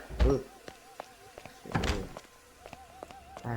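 A door closes with a heavy thunk near the start in the video game Hitman: Blood Money, a second thud follows midway, and lighter taps and soft tones run throughout.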